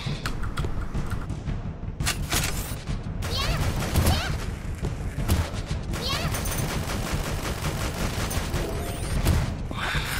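Video game gunfire from Gears of War comes as dense, repeated bursts of automatic shots and impacts. Loud, busy battle noise with brief pauses runs throughout, and a voice is faintly mixed in.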